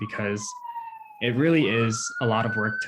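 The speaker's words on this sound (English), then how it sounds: "apologize for the siren" An emergency vehicle siren wails outside with a steady, slowly shifting tone, clearly audible beneath a woman's ongoing speech on a webinar call.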